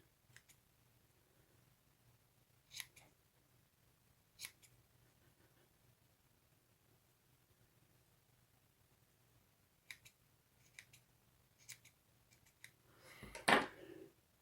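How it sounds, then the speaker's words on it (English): Scissors trimming stray bits off a yarn pom-pom made on a Trimits pom-pom maker: a few sparse, quiet snips spread apart, then a denser burst of rustling cuts near the end, with no talking. "you might have to cut one or two little bits off here and there to tidy it up a little bit"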